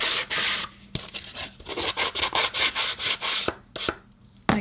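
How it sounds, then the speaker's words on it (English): Sandpaper rubbed along the edges of paper strips for a December mini album cover, giving a run of short, rhythmic scratchy strokes up close, with brief pauses and a few sharper taps. "I can even take some sandpaper and kind of sand those edges"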